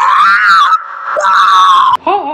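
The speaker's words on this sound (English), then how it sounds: "Why did he scream?" A loud, close, drawn-out scream rising and wavering in pitch, broken by a brief pause and ending with a short strained cry.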